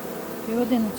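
A steady honeybee buzz hums close by at a hive, with a few brief rising tones drifting over it, like many bees droning around one spot.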